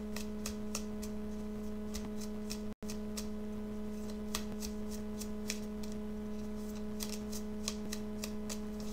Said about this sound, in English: I'm going to pull this outcome card